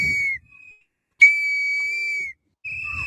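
Three loud, sustained whistle blasts, each steady and shrill, separated by short pauses, with faint rumbling in the background.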